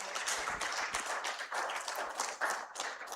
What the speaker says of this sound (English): Please let's give another round of applause.